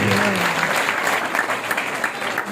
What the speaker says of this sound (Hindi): आप भी जयकार या ताली जोर से बजाओ